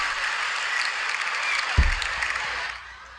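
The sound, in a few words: audience applause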